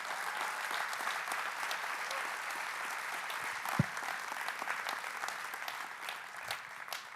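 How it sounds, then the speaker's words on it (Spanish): A church congregation applauding during a sermon, a steady wash of many hands clapping that holds evenly for several seconds with faint voices beneath and one low thump midway. "Denle un aplauso al Señor."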